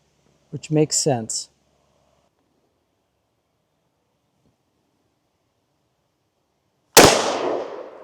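A single sharp, loud blast from a .500 JRH handgun firing 350-grain XTP rounds outdoors cracks out and decays, after several seconds of near silence that follow a brief voice.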